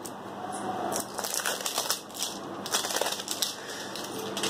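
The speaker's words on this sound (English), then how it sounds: "Let me just unwrap this and I'll get back to this." Plastic wrapping torn and crinkled off a bottle of Biotique Bio Apricot Refreshing Body Wash, a close, fairly quiet run of irregular crackling and crumpling.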